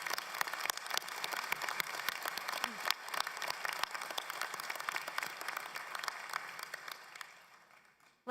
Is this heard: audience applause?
yes